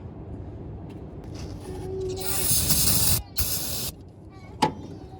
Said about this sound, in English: Brake clean. See what we got.